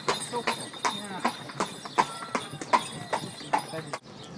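Horse hooves clip-clop at a steady walking rhythm on hard pavement in narrow city alleyways in Malta, crisp and close, about a dozen strikes before stopping abruptly.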